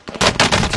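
Rapid automatic gunfire in Call of Duty: Warzone, a loud close burst of about four quick shots in even succession.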